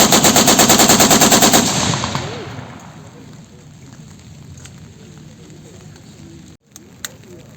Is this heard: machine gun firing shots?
yes